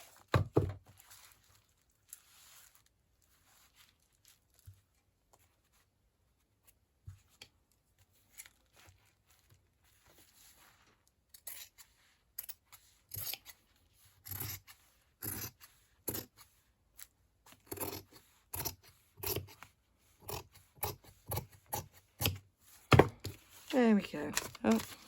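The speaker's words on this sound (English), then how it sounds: "Maybe then trim with my pinking shears." Scattered crisp snips and cutting clicks of pinking shears through fabric, sparse at first then quicker and more frequent, close by, with a faint rustle of material and no talking.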